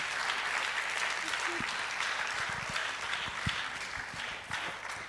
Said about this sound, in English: I am not surprised the young are clapping so loud